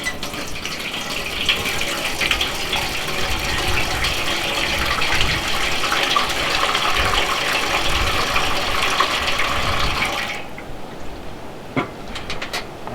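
Hot water pours steadily at close range in a 1920s-style vintage winter camp, a continuous gushing fill lasting about ten seconds before cutting off, followed by a few faint clicks and knocks.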